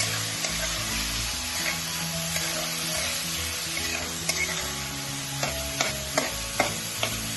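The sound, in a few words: quinoa frying and stirring in a pan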